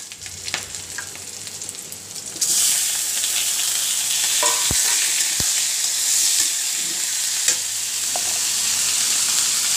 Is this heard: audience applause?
no